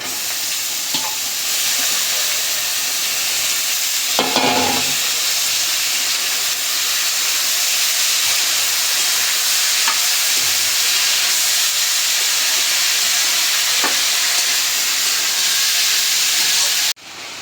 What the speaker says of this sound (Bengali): পেঁয়াজটা একটু ভাজে নিলাম এখন দিয়ে দিব করলা আর আলু